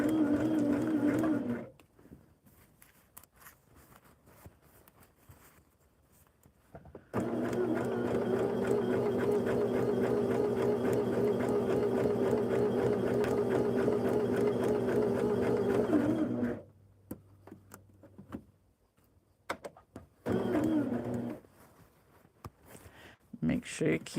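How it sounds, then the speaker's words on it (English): A sewing machine stitches fabric along a marked quarter-inch seam line in a quilting project, a steady hum running for about nine seconds, with brief shorter runs before and after separated by near silence. "take it to the machine. And I'm going to sew on the line I marked"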